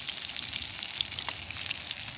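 A thick cheeseburger patty cooked well done sizzles steadily in a pan at a freezing winter camp, a soft, even crackle with no voices.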